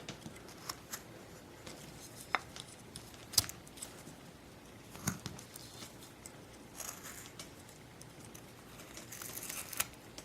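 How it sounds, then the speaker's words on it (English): Short crisp snips and scraping cuts from shaping a carving, scattered irregularly and faint, with light rustling between them and no talk. "Now what I want to do is cut this a little bit here"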